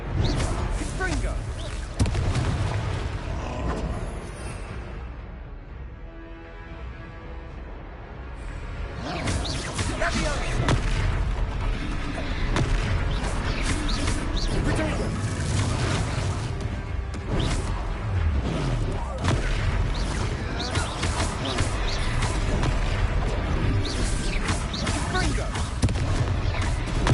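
Fire spell blasts from combat in Hogwarts Legacy, loud bursts and crashes over dense game music and effects, with a brief quieter lull midway before the fighting noise resumes steadily.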